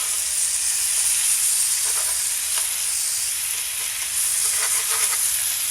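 Salmon frying in butter in a skillet as the pieces are flipped back over, a loud, constant close-up sizzle and hiss with faint scraping underneath.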